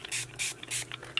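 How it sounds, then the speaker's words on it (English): Tattered Angels Glimmer Mist is sprayed onto a paper tag in several quick, soft hissing pumps, close and quiet. "I'm going to spray this one."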